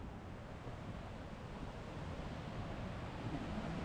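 Bushkill Falls in the Pennsylvania Poconos, its main waterfall seen from above, pours in a steady, dense broadband roar of rushing water that holds constant throughout, with no voices over it.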